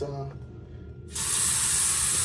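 A high-pressure cabin shower aboard the cruise ship Freedom of the Seas bursts on after a brief spoken word, then sprays as a loud, steady, close hiss to the end.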